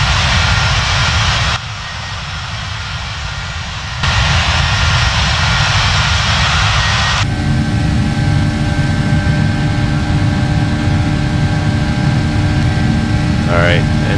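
Simulated Boeing 737 jet engines spool up on the runway in the FSX flight simulator, a loud steady roar and whine that steps up in pitch and intensity, with faint tonal tones near the end.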